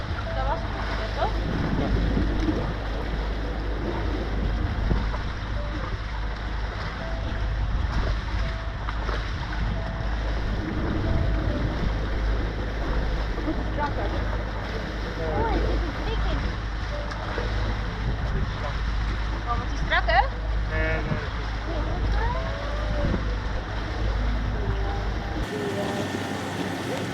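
A sailboat moves across open sea off Zakynthos, with a steady rush of wind across the microphone and washing waves around the hull throughout, constant and fairly loud, with faint voices now and then.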